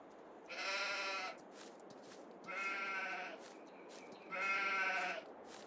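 Sheep bleat in Farming Simulator 22, three long, wavering bleats spaced about two seconds apart, close and clear over a faint low background.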